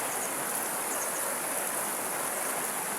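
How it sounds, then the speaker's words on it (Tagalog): River water rushes steadily through a rocky stretch of the Blue Rock river, a dense, continuous hiss of flowing current heard close and unchanging throughout. "ingay ng tubig no yung agos so napakasarap"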